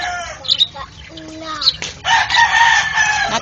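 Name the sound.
chicken clucking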